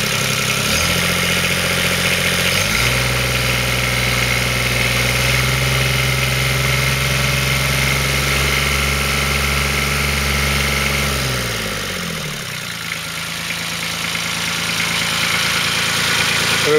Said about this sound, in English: Sweet little engine, it's only 700cc or so, but lovely low tick over.